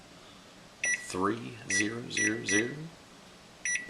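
Kitchen stove timer being set for simmering chicken stock gives several short electronic beeps in sequence, close by, while a person talks between them.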